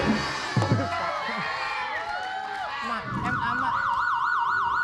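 A wavering siren sound effect, like an ambulance or police siren, cuts in on an Indonesian comedy show, rising loud and steady over studio chatter and crowd noise in its final seconds after people talk.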